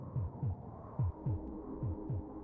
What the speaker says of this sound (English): is it just me, or does it sound like the heartbeat is actually like going faster?